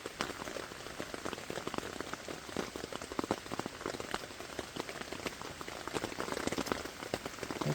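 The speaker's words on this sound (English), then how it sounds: "It's raining, and I think it's going to do this all night." Rain falling on a tent tarp during an overnight camp at Salamonie, a steady, close patter of drops with sharper individual taps scattered through, fairly quiet and continuous with no voices.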